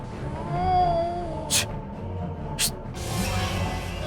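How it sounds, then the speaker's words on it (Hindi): Cat yowling in a Hindi comedy scene, a drawn-out wavering wail held over a low background hum, with two brief sharp hissing bursts partway through. "अरे बाप रे, कितनी डरावनी बिल्ली है।"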